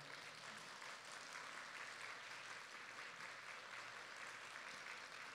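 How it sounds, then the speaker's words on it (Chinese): A church congregation applauds to welcome first-time newcomers standing among them, a steady, even wash of clapping from many hands filling the room, fairly faint and unbroken, with no voices over it. "我们掌声欢迎他们。"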